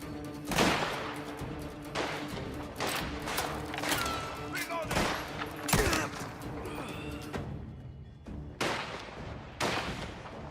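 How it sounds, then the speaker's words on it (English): Repeated gunfire from Mafia: The Old Country, with loud shots and bursts in an uneven rhythm over a continuous game soundscape, while an excited voice talks over the action. "Just keep shooting!"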